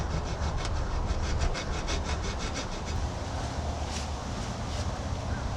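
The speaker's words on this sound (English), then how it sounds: "So let's go ahead and file it." A hand file rasps across pot metal in quick back-and-forth strokes, rough and scratchy, close up and continuous.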